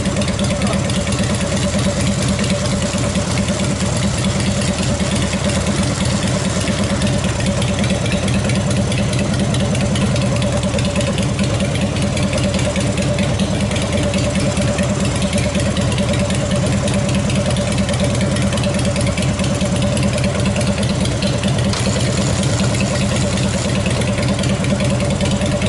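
Engine of a scale model Cobra car with a transfer case runs continuously with the clutch engaged, a steady loud mechanical drone with a buzzing hum that holds an even pitch throughout.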